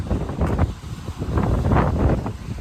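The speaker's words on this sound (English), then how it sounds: "hopefully the wind don't blow the stand over" Strong wind buffets the microphone on an open Bristol Channel shore during winter sea fishing, a loud, steady roar with gusting swells and no talk.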